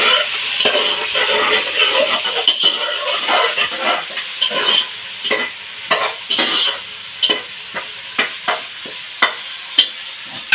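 Vegetables sautéing in a pan for fish curry, sizzling and frying steadily up close while a utensil stirs them with repeated scraping strokes.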